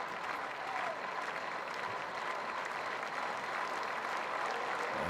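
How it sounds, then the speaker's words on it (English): Cricket crowd at an Edgbaston Test match between England and West Indies applauding, a steady, even wash of clapping from a large distant crowd lasting throughout. "More applause, more winding up."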